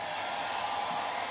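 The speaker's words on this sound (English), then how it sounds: "now I've just got to blow the hairdryer on it to heat it." A hairdryer blows steadily to heat chromatography paper during an amino acid experiment, giving a constant close whooshing hum with no talk.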